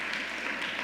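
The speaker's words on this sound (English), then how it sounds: "So to our elected leaders in this room, let me give you all an extra round of applause." Brief, steady applause from an audience for elected leaders at a New York governor's bill-signing event, a dense, even patter of clapping heard at a moderate distance.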